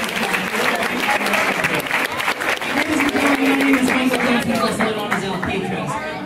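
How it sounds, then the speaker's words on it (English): Audience at a senior all-night party hypnotist show claps for the stage volunteers, a steady, fairly loud wash of applause with crowd murmur and a voice talking over it throughout. "Give them all another nice round of applause for me."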